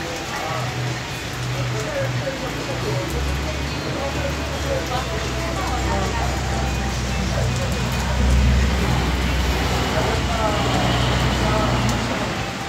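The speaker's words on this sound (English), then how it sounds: "It's really raining." Heavy rain pours steadily and close by in broadband noise, with low traffic or engine rumble beneath and a voice speaking over it.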